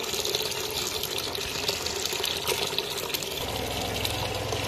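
Tap water runs steadily from a faucet at a leaking municipal supply line, a continuous broadband splashing rush that stays fairly loud and unbroken throughout, with no voices.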